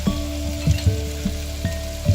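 Sweet paprika sizzling in a pan over medium heat beside garlic, a steady close frying crackle with soft stirring taps and scrapes, no voices.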